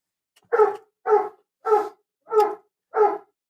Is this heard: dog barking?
yes